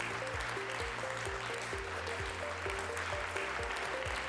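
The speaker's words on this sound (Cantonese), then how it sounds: "再一次咧俾啲熱烈嘅掌聲" An audience claps steadily at a school STEM award ceremony, a sustained wash of applause blended with background music throughout.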